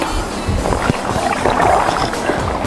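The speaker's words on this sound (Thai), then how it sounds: "ได้ยินเสียงน้ำชัดเลย แต่เป็นถุงน้ำนะคะ" Muffled water sloshing and gurgling inside a water bag, continuous and fairly close, with soft rustling movement throughout.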